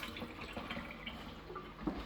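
A tap runs steadily, a continuous rushing and splashing of water into a sink, close by and fairly quiet, with no talk over it.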